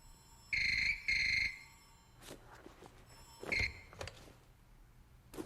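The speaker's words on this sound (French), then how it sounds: "Kugo, le téléphone, il sonne." A telephone rings in two quick electronic trills, then a single shorter ring after a pause, with soft knocks and shuffles in between in a quiet room.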